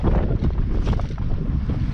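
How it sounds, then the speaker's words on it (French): Strong wind buffets the microphone in a harbour at Calvi, a steady loud roar with rumbling gusts and faint water and boat noise, no voices. "le vent ne tombe pas"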